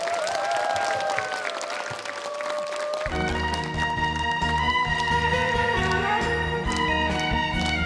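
An audience at a Korean singing-class talent show applauds to welcome a guest singer. The steady, fairly loud clapping fills the first few seconds before music starts and plays over it.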